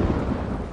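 Deep rolling thunder rumbles over Shang Tsung's caravan at night in the Mortal Kombat 1 video game, a loud continuous low roar with faint rain hiss and no talking.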